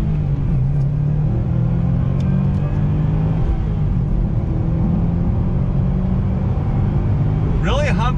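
A Subaru S209 accelerates hard in first gear through a U-turn on throttle, its engine giving a loud, steady, close rumbling drone that holds for several seconds from inside the car.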